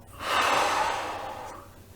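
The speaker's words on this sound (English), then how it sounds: "Again, breathing in. And out." A single deep breath during a morning stretching routine: a soft, airy inhale swells up within the first half second, then drains away as a long, steady exhale, close and alone with no talking.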